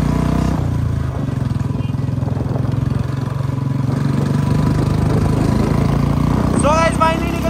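A Royal Enfield Bullet motorcycle with a loud aftermarket exhaust idles with a steady, throbbing low thump throughout, close and dominant, with faint high chirps near the end.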